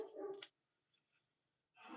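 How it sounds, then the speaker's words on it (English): A dog barks in a short burst at the start, then falls quiet before another bark or yelp comes in at the end, moderately loud and near, with no talking. "Forever barking at everything and nothing at the same time."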